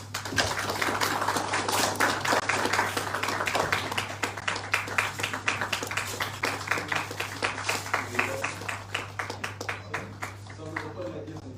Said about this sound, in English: We will clap our hands.